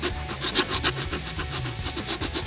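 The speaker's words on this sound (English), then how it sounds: "you're going to start sanding" Sanding a window out on a surface makes a quick, rhythmic scratchy rasp. The close back-and-forth strokes repeat steadily, about four a second.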